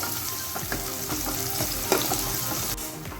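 Chopped onion frying in a pan for prawn curry, a steady close sizzle with scattered soft stirring scrapes and a brief louder clatter, no voices.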